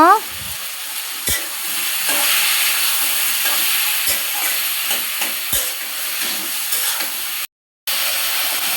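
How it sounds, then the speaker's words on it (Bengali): Taro leaves and dried chepa fish being stirred in a hot pan, a loud steady sizzle with periodic scraping and clinks of the spoon against the pan. "এখন সবগুলো একসঙ্গে মিশিয়ে নিব।"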